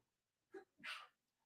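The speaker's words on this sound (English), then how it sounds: "my son sneezed." A child sneezes once indoors, a short soft intake followed by a brief, breathy burst, fairly faint.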